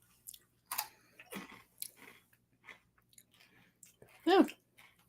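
Someone close by crunches on an ice cream cone, giving several separate bites and chews spaced across the moment. A short vocal sound comes near the end.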